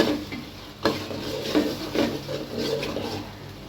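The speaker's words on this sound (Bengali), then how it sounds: "তো এটা দিয়ে কষিয়ে নিচ্ছি" Spicy haleem paste is stir-fried in a pan, making a low sizzle under repeated scraping and clinking of a spoon against the pan, close up with no voices.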